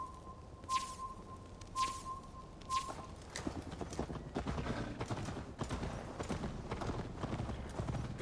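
Horse hooves clip-clop in a quick galloping rhythm in the video game Assassin's Creed Valhalla, fairly faint, after three short beeping tones at the start.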